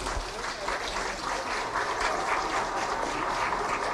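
Applause from a seated audience at a school education platform launch ceremony, a steady continuous patter of many hands that holds evenly throughout at moderate distance.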